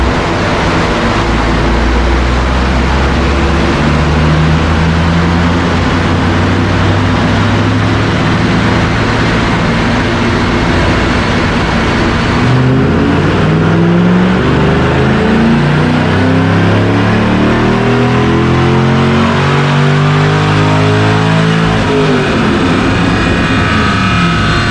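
A Pontiac GTO with an LS2 V8 roars steadily on a dynamometer during a baseline pull, the engine note climbing and sweeping through the revs, loud and continuous for the whole stretch.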